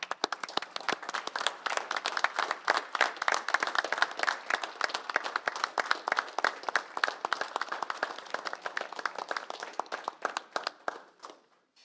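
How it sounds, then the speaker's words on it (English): A round of applause during a city commission meeting in Clovis, many hands clapping steadily for about ten seconds before thinning out and stopping. "Let's give him a round of applause,"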